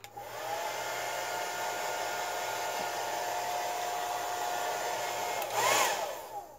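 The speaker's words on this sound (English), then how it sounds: "I'm going to be using the blow dryer to kind of speed up this drying process" A blow dryer drying a prop wand's layers runs steadily and loudly throughout with a constant whirring hum, briefly changing pitch near the end.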